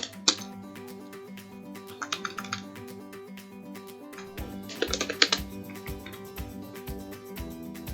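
Typing a pip install command on a computer keyboard, soft scattered key clicks with a couple of quicker flurries, close but quiet over steady background music.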